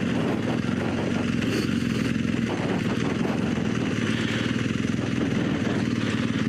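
Motorcycle engine on a hillside tire test, running steadily and slowing slightly as the front brake takes over, a continuous mid-pitched rumble close by with no talk.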